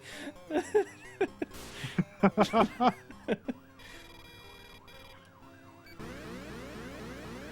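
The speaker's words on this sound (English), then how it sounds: "I hear some sirens out there." After some talk and laughter, a siren from the TurboGrafx-16 game Keith Courage in Alpha Zones wails in rising and falling tones, moderately loud, with other noise coming in at the end.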